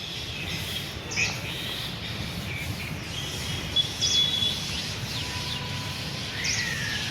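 Sparrows chirp faintly in the Rajkot university garden, giving scattered short tweets over a quiet, steady outdoor background.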